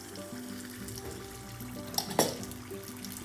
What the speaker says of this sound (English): I am going to start frying now. The oil is hot.